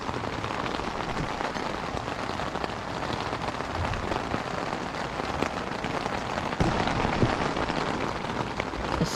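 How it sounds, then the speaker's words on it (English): Heavy rain pounding on a camping tent, a dense, steady patter of drops close overhead that continues without pause, with no voices. "It's raining pretty hard right now."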